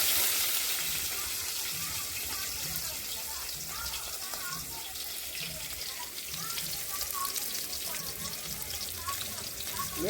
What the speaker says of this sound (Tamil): கடுகு பொரிஞ்சிக்கிச்சிங்க. வெங்காயத்தை சேர்த்துக்கலாம்.